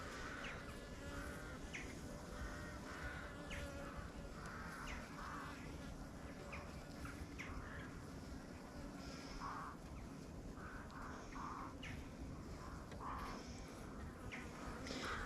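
Honey bees droning in an open winter hive as oxalic acid solution is dribbled onto them for varroa treatment, a steady close hum with scattered chirping calls throughout.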